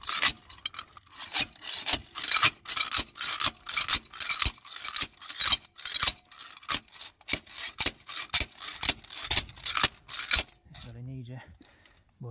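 A ratchet clicks in quick repeated bursts, screwing on a puller thread to extract a piezo injector from a BMW N43/N53 engine, steady strokes of sharp metallic ticks close up, pausing briefly before a final short run.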